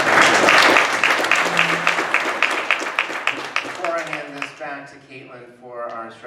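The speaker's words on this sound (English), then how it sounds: "a round of applause for Martin today" Audience applause for a guest named Martin at a forum on forests, biomass and working lands: a dense burst of clapping that tapers off, with a voice speaking as it fades.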